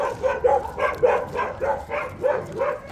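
A pet dog barks in a steady series of about nine sharp, fairly close barks at an even rhythm, heard outdoors during a ball game.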